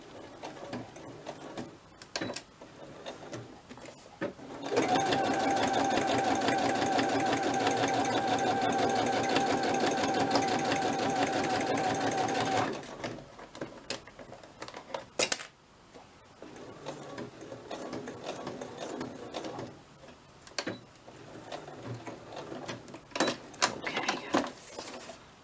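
A sewing machine stitches a soft spine journal cover in one steady, loud run of rapid mechanical whirring lasting several seconds, followed by quieter handling noises and a sharp click.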